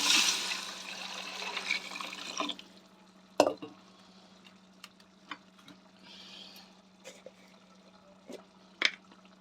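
A brief rush of water pouring into a pot of fried ginger-garlic paste for chicken curry at the start, followed by quieter drips, light clinks and small handling noises.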